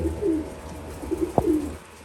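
Racing pigeons in a loft coo close by, giving several soft, low, rolling calls with a sharp brief click partway through, and no talking.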